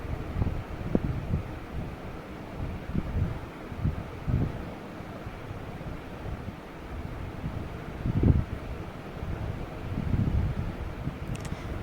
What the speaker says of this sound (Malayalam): നല്ല കാറ്റുണ്ടായിരുന്നു.